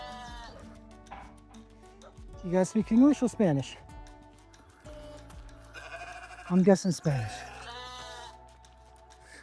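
Sheep bleat on a rural dirt road, two loud wavering bursts standing out over a steady background hum while a person speaks nearby.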